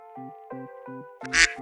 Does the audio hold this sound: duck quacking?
yes